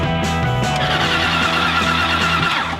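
A 60-year-old car roars as the driver floors it, a loud, steady engine drone with rising revs and harmonic whine held throughout, close and unbroken.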